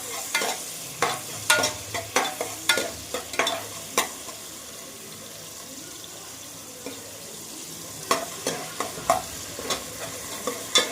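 Chopped onions fry in hot oil under a low sizzle. Sharp stirring clacks come in bursts at the start and again near the end, with a quieter stretch between.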